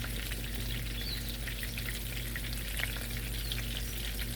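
Hawaiian garlic shrimp sizzles steadily in a hot stainless steel pan, a close, dense and continuous frying hiss with faint crackles and no voices.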